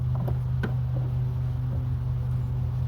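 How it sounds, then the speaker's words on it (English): A steady low engine drone hums throughout, like a lawn mower running at a distance, with a few faint clicks and taps over it. "My neighbor decides now to cut the grass."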